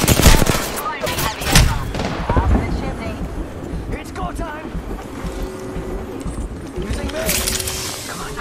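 Gunfire in the Apex Legends video game comes in several loud, sharp bursts early on, then thins to scattered shots under a busy mix of game effects, with a player talking throughout.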